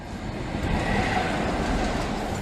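Class 47 locomotive 47805 hauling a Greater Anglia coach toward Doncaster past a level crossing, a steady moderately distant rumble of the moving train with soft rail noise.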